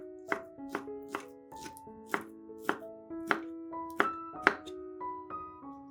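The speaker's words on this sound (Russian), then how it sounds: "50 грамм колбасы нарезаем кубиками" Knife chopping 50 grams of sausage into cubes on a board, about a dozen crisp evenly spaced thunks in a steady rhythm, close and clear with no talking.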